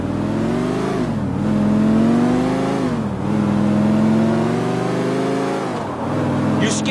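A car in Grand Theft Auto IV drives with a loud, close engine drone that rises and falls as it shifts through gears and accelerates, continuous over the whole stretch.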